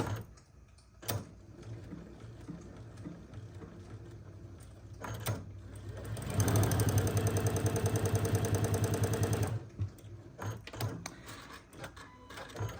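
Sewing machine stitching cotton quilt pieces for a quilt block, a rapid steady whirring run of about three seconds preceded and followed by quieter clicks and handling sounds.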